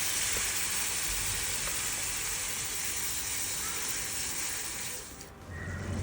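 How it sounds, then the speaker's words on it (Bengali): Water poured into a hot pan of sizzling chilli paneer masala sets off a loud, steady hiss and crackle of frying that fills the space, easing briefly near the end before rising again. "ওই বাটিতে আমরা হাফ বাটি মতন জল এখানে দিচ্ছি"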